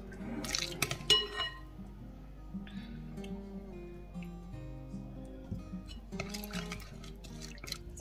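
Pickled garlic liquid splashes into a Thai yam salad, with a short burst of dripping and trickling near the start and another toward the end, quiet and close, with faint clinks between.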